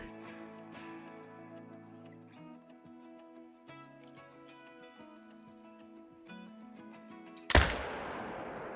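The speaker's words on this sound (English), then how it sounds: "Perfect shot. He's down. We dropped him." A single sharp rifle shot aimed at a pronghorn in the hunting game Call of the Wild cracks out loud near the end, after soft music and small clicks, with a brief decaying tail.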